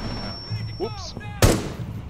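Gunfire in the Rainbow Six Siege video game, a single sharp loud shot cutting through game ambience, with a voice talking just before it.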